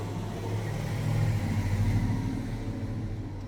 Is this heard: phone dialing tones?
no